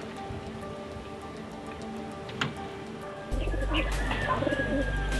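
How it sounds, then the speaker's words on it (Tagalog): Pigeons coo softly in a few low, rounded calls against a hissing, rain-like background that grows louder partway through. "So ito na yung dalawang ibon natin mga tropa."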